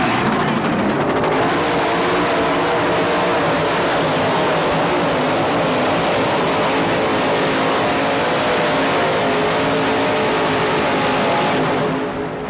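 A tractor-pulling rig at a 1987 TNT Tractor & Truck Pulling event in Louisville, Kentucky, roars loudly and steadily down the dirt track, a dense, sustained engine blast that fades slightly at the end.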